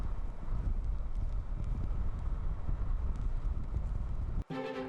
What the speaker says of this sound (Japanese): 強風と雨の到来を予感させる空。